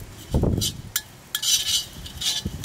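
A utensil scrapes and clinks against a pan while coriander seeds and cumin dry-roast, producing short, close metallic stirring strokes with brief pauses between them.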